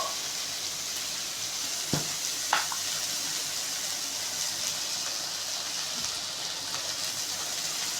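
Okra (vendakkai) sautéing in a pan, a constant close sizzle and hiss with a couple of sharp clicks from stirring early on, no voices.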